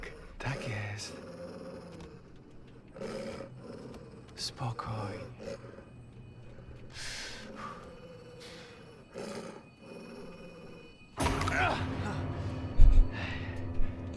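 A dog growls in the Until Dawn remake video game in low intermittent bursts, with a louder surge near the end, while a player talks over it.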